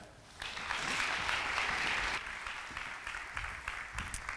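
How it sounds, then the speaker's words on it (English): Applause for the keynote speaker at the ITP Summit 2022, a crowd clapping steadily at moderate volume, starting abruptly and tapering into scattered claps toward the end. "give a good round of applause to our keynote speaker, Dr. Courtney Taylor"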